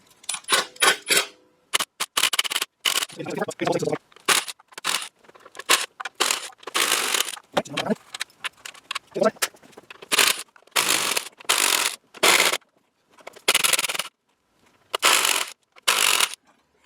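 A wrench backs out the bolts of a plastic intake manifold on an Audi V6 engine, producing a close series of short bursts of clicking and grinding separated by brief pauses.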